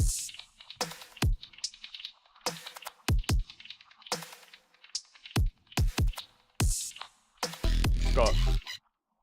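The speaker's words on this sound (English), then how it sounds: "so the drums all together sound like this" A punchy, heavily processed drum beat with sharp kicks and snappy hits in an uneven rhythm, ending in a loud, distorted buzzing burst before cutting to silence.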